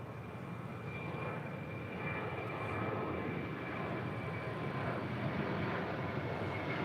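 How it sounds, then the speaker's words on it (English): An American Airlines Airbus A321 departs LAX bound for Dallas Fort Worth, a steady broadband jet roar that holds fairly constant and slightly swells midway, with no one talking. "That was American 1980 departing to Dallas Fort Worth on an A321."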